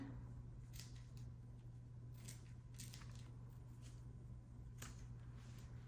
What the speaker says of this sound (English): Then you go back in with your scissors and you just cut around.